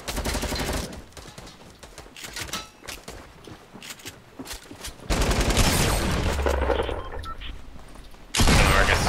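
Gunfire in Fortnite, rapid cracking shots and bursts mixed with thuds and busy game noise, first clustered and then joined by a louder sustained rumble and a final burst.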